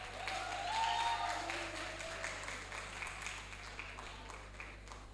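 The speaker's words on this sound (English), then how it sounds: "Clap your hand now." An audience at an afternoon presentation session claps for the next presenter, a moderate patter of hands that swells early and then thins out, with a steady low hum underneath.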